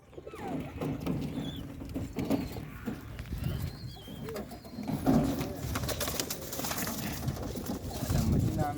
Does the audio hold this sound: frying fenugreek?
no